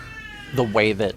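A pet cat meows a few times from a closed-off kitchen in the background of a house, the calls rising and falling under a person talking over a game.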